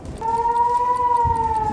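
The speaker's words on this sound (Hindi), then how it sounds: "रॉकेट हमले के बाद काफी देर तक इजरायली शहरों में एयर रेड अलर्ट सायरन बजते रहे।" An air raid alert siren in Israeli cities holds a steady wailing tone for under two seconds, fairly loud over a low rumbling background.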